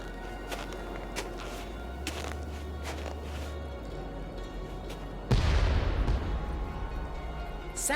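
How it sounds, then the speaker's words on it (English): A sudden heavy boom from the White Wolf of Icicle Creek video game, a loud broadband blast that cuts in after a quieter stretch of game ambience and rumbles on to the end without any speech. "sounded like an explosion."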